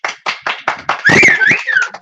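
A few people clap in short bursts, about eight sharp claps at a steady rhythm, close and loud, with a whistle-like tone sliding across the middle.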